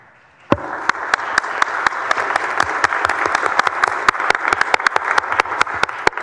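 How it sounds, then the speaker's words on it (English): Applause fills the Texas Senate chamber during a resolution honoring women trailblazers. It breaks out suddenly and stays steady, with dense clapping and sharp individual claps standing out, moderately loud and without talk. "Please join me in welcoming and applauding these trailblazers."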